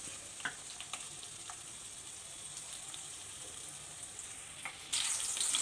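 Green chillies frying in hot oil in a home kitchen, a steady soft sizzle with faint crackles that grows brighter and louder near the end.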